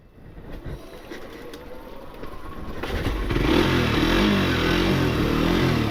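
A Suzuki GSXR150 motorcycle engine is started after some clattering effort, then catches and settles into a loud, steady idle close by that rises and holds through the second half.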